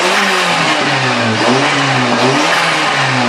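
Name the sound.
turbo engine on low boost, Toyota GT Turbo / Glanza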